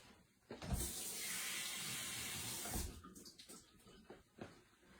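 A tap runs into a coffee maker's carafe for about two seconds with a bright rushing fill, then brief splashes and clunks as it is rinsed, fairly quiet and close.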